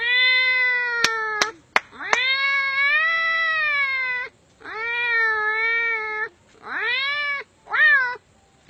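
A voice imitates a cat meowing while eating, loud and close, with drawn-out wavering meows broken by short pauses and a few sharp clicks near the start.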